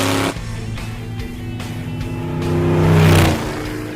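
A 1985 C4 Corvette-based kart drives on a busy Los Angeles highway, its mid-pitched engine droning steadily and swelling louder toward the end, with no talk over it.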